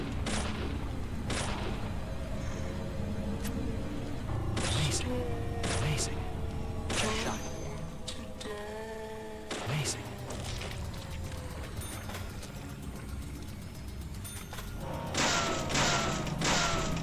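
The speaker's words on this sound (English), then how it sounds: "the bullet is so loud when you shoot the box" Loud, sharp gunshots strike a box in Deadly Premonition, several separate cracks and thumps spaced irregularly across the stretch, with a voice talking between them over a low game background.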